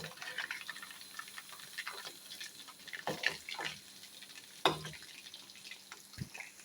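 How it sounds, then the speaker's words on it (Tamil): Chicken 65 frying in hot oil, a steady low sizzle with soft crackles and a few sharper pops and clinks from stirring, moderately close and no voices. "இன்னும் ஒரு 2 நிமிஷம் நல்லா ஃப்ரை ஆகட்டும்."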